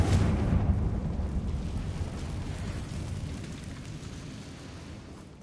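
The Confringo explosive fire spell in Hogwarts Legacy: a broad roaring blast with a rumbling, crackling body that fades slowly across several seconds, loud and continuous with no talk.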